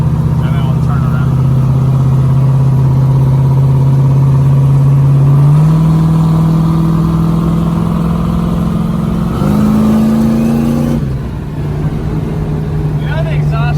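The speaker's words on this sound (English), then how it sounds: "You know the exhaust shoots right in my face when you do that." A turbocharged Fox Body Mustang idles loudly nearby and rises in pitch through a few stepped revs, its exhaust droning steadily while people talk over it.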